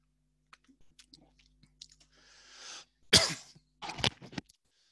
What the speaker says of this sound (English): Sorry, I'm about to cough.